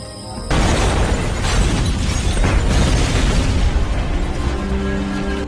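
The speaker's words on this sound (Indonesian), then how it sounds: "ledakan pun terjadi" Explosion of a gas-filled house in the film Shooter, a loud sudden blast that opens into a long roaring, rumbling wash of debris and fire, sustained and heavy throughout.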